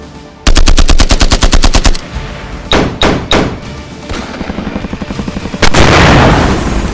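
Staged gunfire in an audio drama: a loud, rapid machine-gun burst, then several separate heavy shots, followed by further steady automatic fire and a closing blast.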